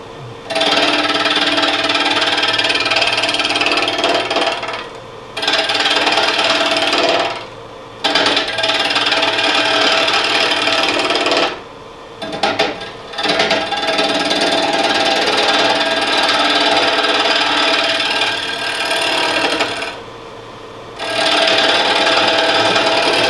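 A wooden workpiece spins on a lathe while a turning tool cuts it, making a loud, continuous rough scraping and chattering. The cutting stops briefly several times before starting again.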